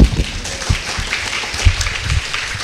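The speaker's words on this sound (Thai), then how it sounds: "ขอเสียงปรบมือให้คุณฮันนะครับ" Audience applause for a speaker at a Node JS tech talk, a steady, moderately loud wash of clapping from a crowd with no voices over it.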